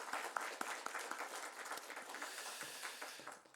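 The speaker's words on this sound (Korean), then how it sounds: "우리 하나님께 우리 감사의 박수, 기쁨의 박수, 영광의 박수 올려드립니다" A church congregation at a Sunday worship service claps in applause, heard as a faint, fairly distant patter of many hands with a few sharper individual claps standing out near the start.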